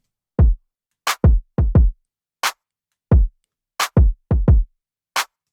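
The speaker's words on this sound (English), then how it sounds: "listen to the kick pattern, because I really love the syncopation and the bounce it gives" Punchy electronic kick drums land in an off-beat, bouncy pattern, some hits clustered in quick pairs, with bright snappy hits interleaved between them.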